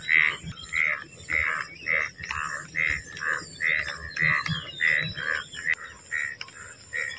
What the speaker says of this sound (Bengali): ব্যাঙে ডাকতেছে